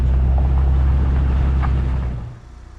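An old government snowplow, a medium-duty plow truck, climbs a driveway with a deep, steady engine rumble that stays loud and close before dropping away near the end.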